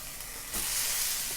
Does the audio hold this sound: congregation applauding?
no